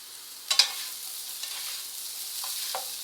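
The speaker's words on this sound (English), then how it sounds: "I'm just going to give it a little mix." Cornish hen sauce with savory herb mixed in a pan over medium-high heat, a quiet hiss of gentle bubbling with a couple of spoon clinks at the start and faint scrapes afterward.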